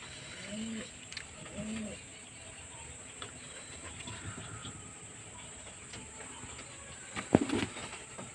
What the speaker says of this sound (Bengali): তো চলুন পায়রাগুলো এখানে খেতে দিয়ে নি